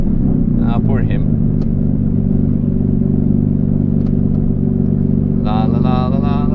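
A Bridgeport 13B rotary Mazda RX-8 at the Nürburgring screams loud and close at high revs, a steady buzzing wail that holds throughout, with a voice talking over it.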